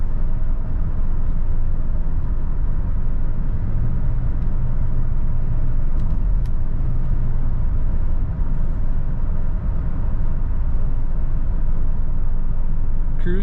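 Steady low road rumble and engine hum from inside a moving 1995 Cadillac Seville SLS sedan, smooth and continuous, with no voices.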